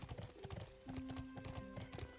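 Rapid horse hoofbeats clip-clop in a steady rhythm with a sustained tonal hum beneath, from the game Bless Online, fairly close.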